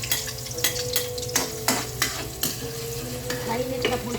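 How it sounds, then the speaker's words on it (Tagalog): Garlic and onion sautéing in a hot pan, a steady sizzle broken by repeated sharp scrapes and clinks of a utensil stirring against the metal, close and continuous. "So, gisa ko na. Mas maraming bawang at sibuyas, mas masarap."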